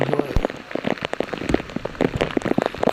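Heavy, cold rain falls on a lagoon near an underground river at Big Lagoon, a dense, steady patter of countless drops close by with no voices.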